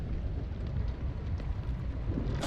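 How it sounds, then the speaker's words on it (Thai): Rain falls on an alien ocean planet in a video game, a steady soft wash of rainfall with low rumbling underneath, even and moderately quiet throughout. "ฝนตกอ่ะ เจ้ย บนฝนตกนะครับ"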